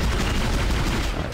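Dense, rapid gunfire from the video game Dead Space, a continuous burst of shots packed tightly together, loud and close, running the full length with no talk over it.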